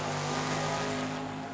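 A 1967 Camaro roars down the strip at Tucson Dragway, a loud, steady engine drone with strong low harmonics, held close for a brief moment.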